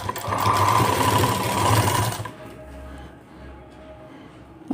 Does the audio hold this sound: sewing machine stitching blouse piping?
yes